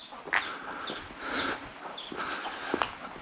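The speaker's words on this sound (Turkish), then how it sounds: "Köy tavukları da kavga ediyor." Outdoor village chickens fighting in a Black Sea mountain village, with sharp squawks and clucks in short bursts, some scuffling, and faint chick chirps in the background.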